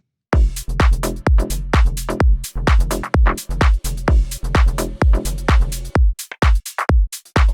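A punchy electronic loop repeats in a steady rhythm of short, loud synth hits and drums, with a broken stuttering pattern near the end.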